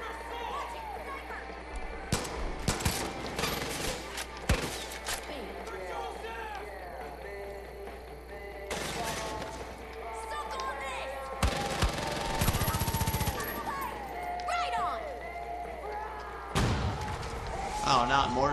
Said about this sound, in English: Oh, not mortar again.